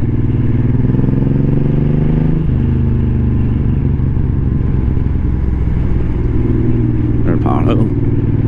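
A touring motorcycle with Viking saddlebags and a rear tour pack rumbles steadily while being ridden, its engine drone loud and continuous with heavy wind noise and a brief clatter near the end.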